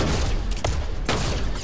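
Gunfire in the Fortnite video game: loud, dense bursts of shots packed close together, with a brief break in the middle, heard up close and on its own without talk.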